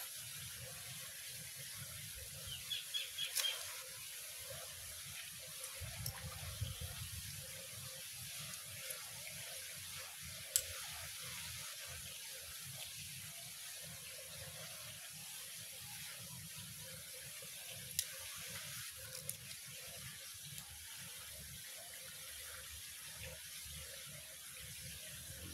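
Water steadily draining out of a concrete fish pond, a continuous low gushing and trickling flow held at a moderate, even level with a few brief splashes and knocks early on.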